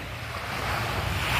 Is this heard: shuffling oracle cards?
no